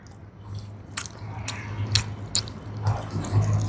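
Quail adobo cooked outdoors is eaten close up, with several crisp bites and wet chewing sounds spaced irregularly over a low steady hum.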